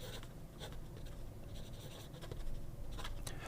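A fountain pen with a medium cursive italic nib scratches across paper in steady, close strokes, with brief pauses and quicker scrapes toward the end.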